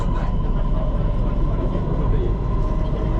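A Bangkok MRT metro train pulls out of Lumphini station with a steady, loud rumble and a sustained motor whine inside the car, continuous throughout, with a voice faintly audible beneath.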